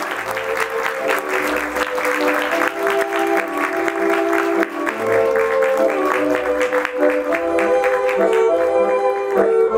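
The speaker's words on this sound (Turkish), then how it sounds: "Senan Kara Tutumluer alkışlarınızla" A theatre audience applauds at an awards ceremony as a best actress winner is called up, sustained loud clapping with music playing underneath throughout.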